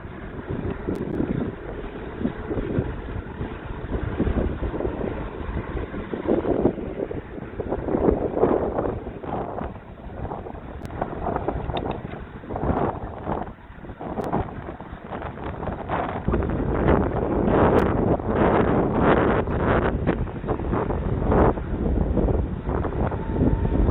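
Steady, loud wind buffeting a microphone while cycling into a headwind, a continuous rumbling roar that surges and swells throughout with no voices.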